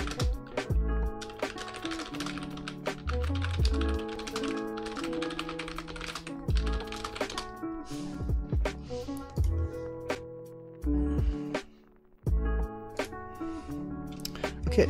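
Typing on a computer keyboard while working in an Unreal Engine 4 editor, with a steady run of close, busy key clicks against a dense layer of background music.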